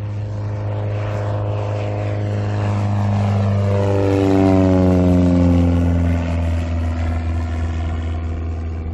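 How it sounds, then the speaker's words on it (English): A Mooney light airplane takes off from a runway at a sport aviation showcase. Its steady propeller engine drone is loud and close and swells as it passes, with a pitch that glides downward. No one speaks. "I got a Mooney taking off."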